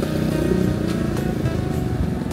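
A motorcycle engine runs close and loud with a steady rough drone, idling or revving gently throughout with no talk over it.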